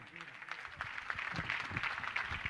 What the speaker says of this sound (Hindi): आपकी तालियां बहुत कमजोर हैं